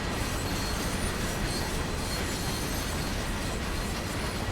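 Freight train wheels roll over rail joints in the Train Sim World game, a dense, steady rumble with faint clicking and metallic squeal, loud and continuous throughout with no pauses.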